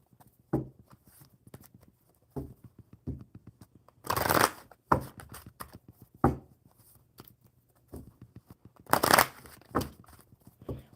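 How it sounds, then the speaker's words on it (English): Tarot cards being handled and shuffled up close: quiet taps and slides broken by two loud riffle bursts, each lasting about a second, with no talking. "One more good shuffle."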